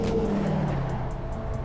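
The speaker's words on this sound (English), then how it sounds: "These cars like are very close." Cars pass close beside a cyclist on a road with no bike lane, a steady loud rush of traffic and engine noise with a faint tyre hiss, heard from the bike without talk.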